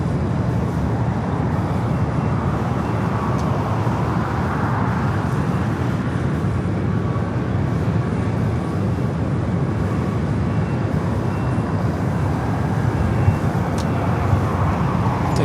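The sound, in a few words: Delta Airlines Airbus A319 jet at LAX airport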